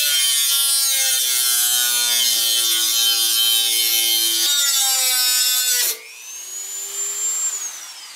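Rotary cutting tool sawing through a moped's rear fender, a loud steady high-pitched whine with a harmonic buzz for about six seconds, then a quieter rising tone as the tool spins down.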